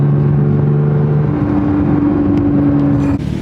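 Manual Porsche 992 GT3 sports car engine revving on a mountain road in the Smokies, a loud sustained engine tone that climbs in pitch, then cuts off abruptly near the end.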